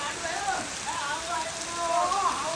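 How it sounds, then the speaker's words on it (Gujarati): Steady rain hisses across the whole clip, a dense wash of falling water with faint voices drifting underneath. "ફૂલે ફૂલ વરસાદ આવ્યો"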